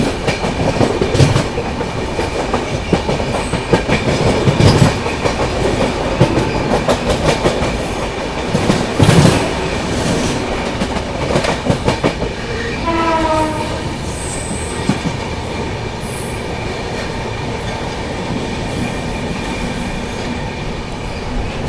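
Bihar Sampark Kranti Superfast Express, heard from onboard as it runs through Tundla Junction without stopping: loud continuous rail roar with rapid clickety-clack over the joints, brief squeals, and a distant horn sounding partway through.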